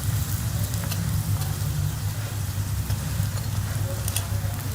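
A green chana paratha cooks on a hot pan, giving off a steady, close sizzle and crackle of frying that holds at an even loudness throughout with no one speaking.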